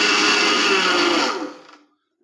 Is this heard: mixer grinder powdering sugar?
yes